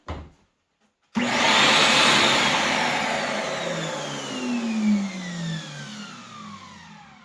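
A Ridgid shop vacuum with a clogged filter and weak suction switches on abruptly after a brief bump, its motor whining up to a loud, steady roar with shifting pitch.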